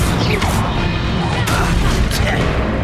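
Incendio fire spell in Hogwarts Legacy: sharp, loud fiery blasts and impacts, repeated about three times amid continuous combat noise.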